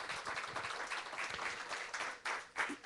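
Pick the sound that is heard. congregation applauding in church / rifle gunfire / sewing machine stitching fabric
congregation applauding in church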